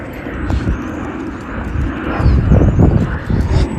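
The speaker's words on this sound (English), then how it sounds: "Got a plane because we're next to an airport." A loud, low roar of an airplane passing overhead near an airport, swelling toward the end, with some rustling nearby.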